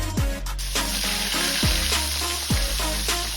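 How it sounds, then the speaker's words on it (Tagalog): Swordfish seasoned with salt and pepper deep-frying in oil over a medium flame, giving a steady sizzling crackle that runs throughout, with a few swooping tonal sounds layered over it. "Then, tara, deep fry tayo."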